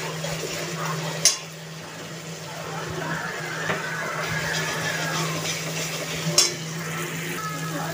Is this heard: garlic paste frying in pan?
yes